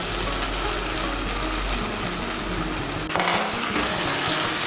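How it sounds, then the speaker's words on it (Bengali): Drained rice pours into a pan of fried spice mix for an egg and rice dish, a steady close rattling hiss that turns to a brighter clatter near the end. "এখন আমি এর মধ্যে দিয়ে দেব চাল"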